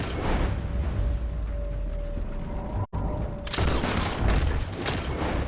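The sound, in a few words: gunfire in Red Dead Redemption 2 video game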